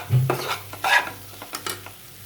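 Egg burji stir-fried in a pan, with a spatula scraping and tossing in several short uneven strokes over a soft sizzle, close and fairly quiet, with no one speaking.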